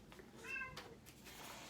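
A few cats meow in quick succession indoors, a short harmonic cry standing out briefly over a quiet, noisy room.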